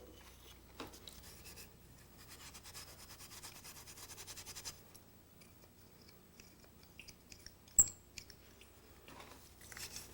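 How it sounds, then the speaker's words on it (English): Coarse number 3 steel wool scrubs rust off a tool. Faint, quiet rasping lasts a few seconds, followed by scattered light scrapes and one sharp tap. "Rust will come off with some coarse steel wool, number 3."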